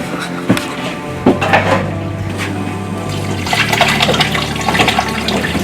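Tap water rushes steadily into a pot holding three black bear skulls (a big boar, a sow and a small one) from Alberta, a close, continuous broadband pour with a few brief knocks.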